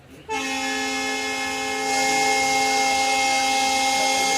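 A train horn sounds in one long, loud, steady blast close by, rising slightly in strength partway through.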